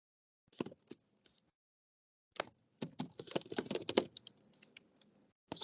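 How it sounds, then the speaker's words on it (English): Bursts of typing on a computer keyboard, close and clear, with quick clustered keystrokes separated by short pauses and a busy run in the middle. "I'll just type it."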